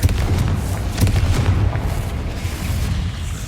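Rapid Confringo spell explosions in the Hogwarts Legacy video game, a continuous barrage of deep booming blasts rolling into one another, loud and close with no speech over them.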